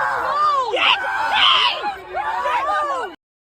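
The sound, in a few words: man screaming during a scuffle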